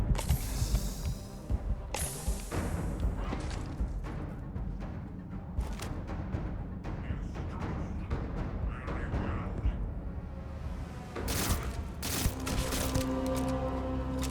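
Bursts of gunfire from the space game Starfield, sharp repeated shots and short volleys spread across the stretch, mixed with clanking mechanical game sounds and a faint voice in places.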